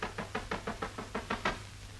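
A door is knocked on in a steady run of about ten evenly spaced, fairly loud raps, close and dry, in a scene from a 1949 Hindi film, with no voices over it.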